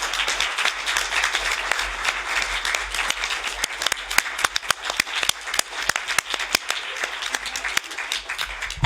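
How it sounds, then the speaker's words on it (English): Audience at a conference on anti-feminism and gender backlash in Europe claps continuously for several seconds, a full steady applause with sharper individual claps standing out as it thins toward the end. "I would like us to give her a big applause for all the work she's done"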